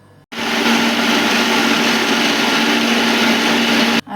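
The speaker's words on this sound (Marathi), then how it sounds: "आता मिक्सरवर" A kitchen mixer grinder blends chutney with bread pieces, salt and water, starting abruptly into a loud, steady high whine that runs unbroken for several seconds before cutting off.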